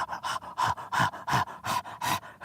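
A person out of breath after climbing pants hard, with about seven even, loud, close breaths in a steady rhythm and no talk.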